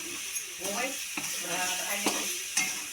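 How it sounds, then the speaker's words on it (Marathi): Onion and tomato chutney is stirred in a pan over a soft sizzle, with a few scraping strokes. A faint voice is heard in the background. "आता भाजी झाली चटणी घ्यायचं हलवून"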